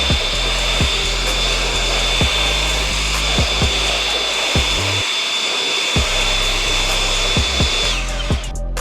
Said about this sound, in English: So this is where the blower comes into play